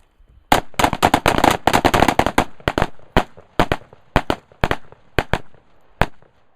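Handgun fire on an outdoor range: a rapid flurry of sharp shots followed by spaced single reports from several shooters, loud and close with crisp echoes, with a voice calling out once.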